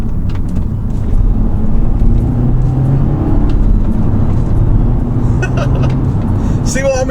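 Audi S3 Quattro hatchback engine droning steadily and building after a downshift from sixth gear, heard from inside the car as a loud continuous rumble with a little road noise.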